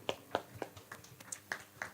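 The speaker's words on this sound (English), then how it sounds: "And one more time, a big round of applause," Sparse applause for a team at a start-up workshop, just a few hands clapping in an uneven rhythm, quiet and close, about eight distinct claps spread across two seconds.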